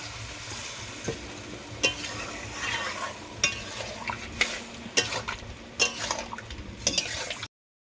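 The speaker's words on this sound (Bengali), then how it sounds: "ভালোভাবে একটু নাড়াচাড়া করে নেব" A spoon scrapes and knocks through papaya, potato and tomato curry in a pan, with a steady low sizzle beneath a series of sharp, close stirring clinks.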